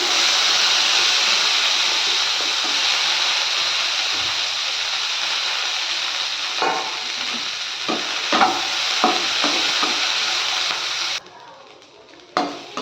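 Chopped banana flower frying in oil, a loud continuous sizzle with intermittent scraping taps of stirring, ending abruptly as the heat drops to a quieter hiss.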